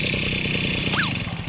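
A motorcycle engine runs close by with a low, steady chugging pulse, and a brief rising and falling whistle-like tone passes over it near the middle, on a comedy skit stage.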